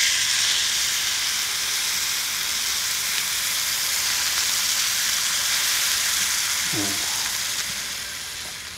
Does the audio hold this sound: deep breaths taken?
no